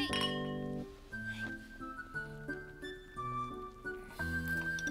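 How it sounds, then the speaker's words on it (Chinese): Drinking glasses clink together in a toast at a hotpot dinner among friends, a bright ringing chime heard over background music with no talking. "干杯！"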